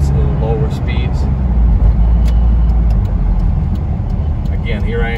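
Toyota Land Cruiser LJ78 turbo diesel driving at low speed through a neighborhood, heard from inside the cab: a steady, loud engine and road rumble throughout, with a few faint clicks and knocks.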